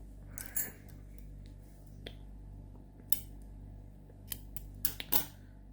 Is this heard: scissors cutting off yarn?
yes